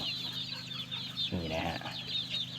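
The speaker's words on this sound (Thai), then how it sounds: "ไก่ก็จะได้ออกมา เขี่ยข้างนอกด้วยนะครับ" Chickens clucking in a budget-built coop, faint, with a short throaty cluck near the middle over a light background of chirps.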